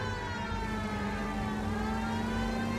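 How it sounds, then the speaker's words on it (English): A steady wailing police car siren in the video game L.A. Noire, with a constant electronic tone over low engine rumble, moderately loud and continuous throughout. "Gotta turn on the sirens here, make this a little bit faster."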